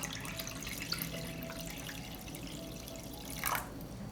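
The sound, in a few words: water poured into a pot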